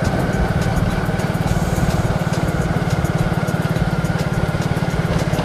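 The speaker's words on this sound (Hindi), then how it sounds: "वो बाइक को चला रहा है" A motorcycle ridden along a road gives a steady, close engine throb with a fast, even pulse that holds for the whole stretch, with no voices over it.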